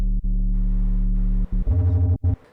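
Serum 2 synth bass note with unison detune and pitch LFO modulation, held low and steady, then shifting to a higher note with a pulsing wobble, loud and alone.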